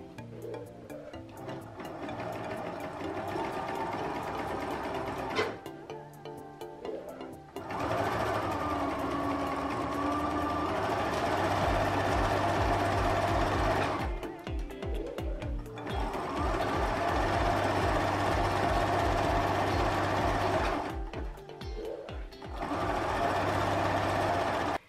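Sewing machine stitching stretchy swimdress fabric, running in several long continuous bursts with brief pauses between them, loud and close with a steady mechanical whir.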